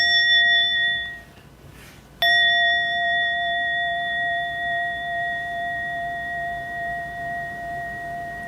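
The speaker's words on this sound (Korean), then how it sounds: "이 종소리" A single bell is struck once and rings out with a clear, sustained metallic tone that lingers and slowly pulses as it decays, heard alone in a quiet room.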